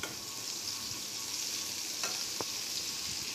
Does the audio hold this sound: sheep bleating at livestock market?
no